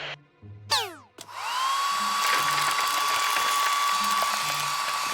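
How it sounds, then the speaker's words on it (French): A hair dryer runs steadily after a brief mechanical clatter, drying modelling clay jammed into a door; a continuous close whoosh with a sustained whine fills most of the clip. "Est-ce que t'as un sèche-cheveux?"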